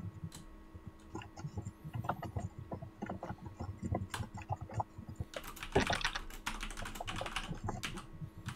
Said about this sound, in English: I'm hearing so much intense typing